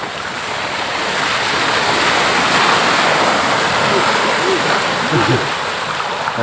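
Floodwater spills over a stream into flooded rice fields, a loud, continuous broadband rush of churning water with no break across the whole stretch.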